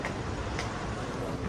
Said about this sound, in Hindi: ये है जी दुबई की मेट्रो।